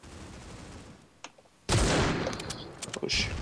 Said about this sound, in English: I heard that shot when going